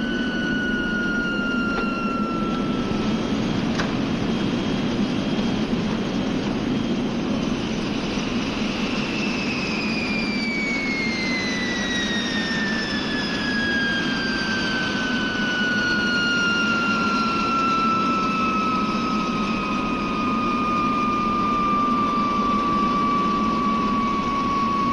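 Jet engines of an airliner during landing in a 1960 film, a steady loud roar with a high whine that slowly falls in pitch throughout.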